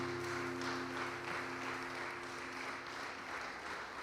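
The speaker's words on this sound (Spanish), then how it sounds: "Dale un fuerte aplauso a nuestro Señor." A congregation at a church service claps for the Lord, a steady, fairly faint wash of applause from a crowd, holding evenly throughout with a low hum beneath it.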